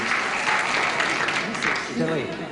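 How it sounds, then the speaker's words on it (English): A game show studio audience applauds, a scattered sprinkle of clapping with voices talking over it, fairly brief and mid-level. "Get a few O's out there and some sprinkling of applause"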